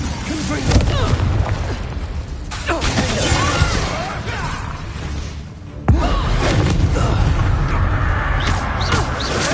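Spell blasts and booms from the Confringo explosion curse in the Hogwarts Legacy video game, with a sharp burst near six seconds over continuous loud battle noise and layered effects.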